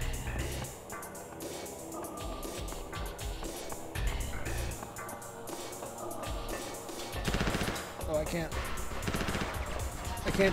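Repeated gunfire in Mortal Kombat Special Forces, bursts of shots over game music and ambience, with a voice talking throughout.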